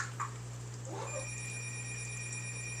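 A telephone rings from a blocked caller, faint and distant, with a steady electronic tone running beneath the whole short stretch.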